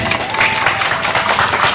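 Audience applause at a Basanti Puja celebration, a dense burst of many hands clapping from a crowd, loud and continuous for a short stretch.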